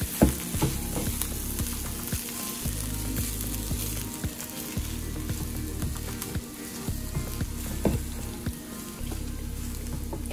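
Dirty rice mixture sizzling and crackling in a pan just off the burner, a steady close hiss with scattered pops and occasional scrapes of stirring, no voices.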